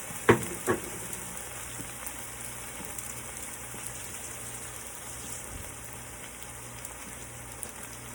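Two cups of white rice frying in extra virgin olive oil give a steady soft sizzle, after two sharp clinks at the start, with no talking.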